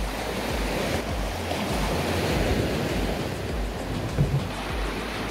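Steady broadband surf washes against a rocky shore of hard stone on a sunny beach, a continuous close roar with wind buffeting the microphone and no voices.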